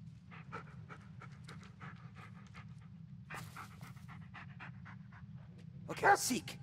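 Dog panting in the Blair Witch horror video game, a steady breathy rhythm running through the whole stretch, with a louder burst near the end and someone talking over it at times.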